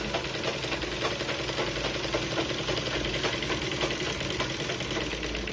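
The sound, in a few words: sewing machine stitching a blouse back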